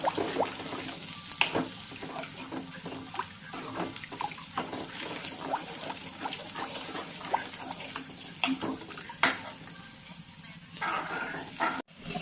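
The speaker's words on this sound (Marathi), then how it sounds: "दह्याच्या भांड्यात पाणी टाकून घेतलंय" Water is poured into a bowl of curd in a home kitchen while making a fasting chutney, giving a continuous soft splashing trickle with small clinks of the vessel, moderately close and unhurried.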